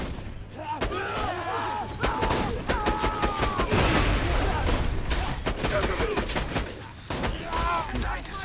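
Bursts of gunfire in Borderlands 2, sharp shots hammering away almost continuously over thumps and game effects, loud and close, with voices faintly mixed in.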